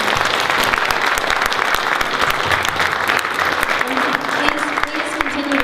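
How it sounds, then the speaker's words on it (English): A dense, steady round of applause from an audience at a public meeting, thanking a panel, sustained clapping filling the whole stretch without pause. "If we could have a round of applause for all of them."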